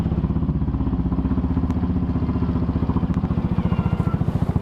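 A motorcycle idles nearby with a rapid, steady putter of engine pulses and some rattling clatter, loud and unbroken for several seconds, with no speech over it.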